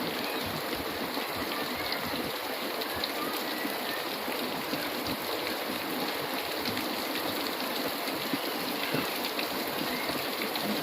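Heavy rain pours down in a steady, dense hiss of drops striking surfaces, loud and continuous throughout without breaks or voices.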